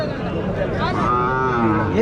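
Cattle at a native cattle market in Marrappalli give a long, loud moo that rises and falls over about two seconds, close by, with faint crowd murmur behind.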